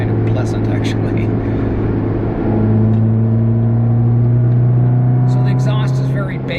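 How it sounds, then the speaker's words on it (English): A 2009 Nissan Cube fitted with a J2 stainless steel cat-back exhaust accelerates, its deep, bassy engine drone rising steadily in pitch through the gears, loud and close, with intake noise audible beneath. "It's a good balance between, you know, the intake noise and the exhaust note."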